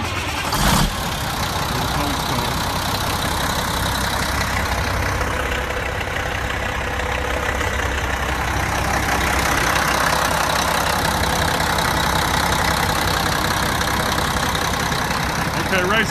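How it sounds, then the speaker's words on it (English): A 2005 Freightliner Columbia 120 truck's diesel engine idles steadily after a cold start, a loud, continuous close rumble with a brief knock near the start. "we're gonna start it from a cold start so you can see it don't smoke or nothing"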